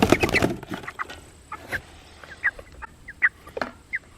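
Cornish Cross meat chickens cluck and peep in short, scattered calls at close range, with some handling noise at the start.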